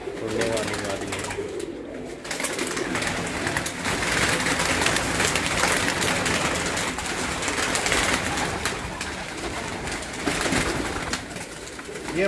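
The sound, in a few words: pigeons cooing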